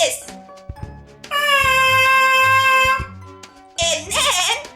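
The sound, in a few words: lips buzzing into a trumpet mouthpiece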